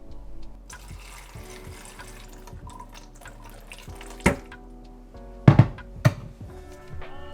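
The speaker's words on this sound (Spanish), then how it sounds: "Le voy a poner un poquitito de agua solamente para licuarlo." A small splash of water pours into a blender holding salsa ingredients for a spinach noodle soup: a quiet trickle broken by a few sharp thunks and clinks from the container.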